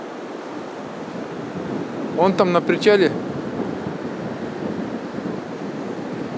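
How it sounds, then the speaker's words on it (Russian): Steady roar of storm surf on the central beach at Anapa after strong wind and rain, broad continuous wash with wind noise on the microphone, while someone speaks briefly over it midway. "некоторые волны достают до настила причала"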